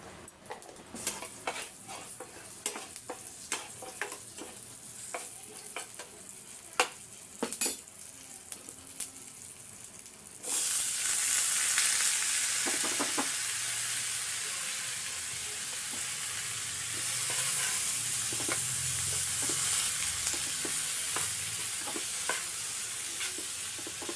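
A stir-fry of broad beans and radish cooking with beaten egg. Soft clinks and scrapes of stirring come first, then a sudden loud, steady sizzle as the egg hits the hot pan, with occasional utensil taps and no speech.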